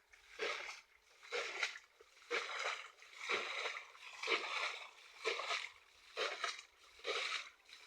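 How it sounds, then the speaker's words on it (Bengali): Oars dip and pull through water as a small boat is rowed, about eight rhythmic splashing strokes spaced roughly a second apart, close and fairly quiet. "যতটুকু পারি আমি এতটুকু নৌকা চালাবো"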